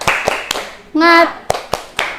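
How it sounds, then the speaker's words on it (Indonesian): Schoolchildren in a classroom perform a rhythmic clapping chant, sharp single claps spaced evenly, with a short sung or shouted vocal burst in the middle. "Tepuk semangat."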